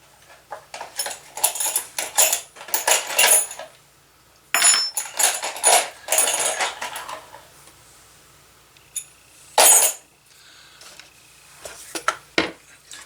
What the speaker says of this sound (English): So I can go ahead and put some stitch holes in there.